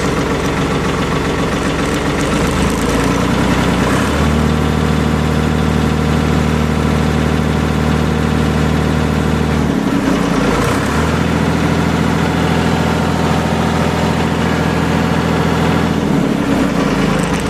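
A Ford 4110 tractor's diesel engine running steadily and loud up close, its low rumbling drone stepping up twice as the throttle is opened and then easing back briefly between the rises.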